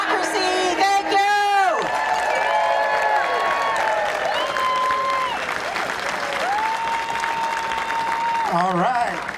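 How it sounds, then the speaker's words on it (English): A protest rally crowd cheers and applauds loudly and continuously outdoors, with whoops and shouting voices, while amplified speech rises briefly over the noise near the start. "big cheer for our Congresswoman Bonamici"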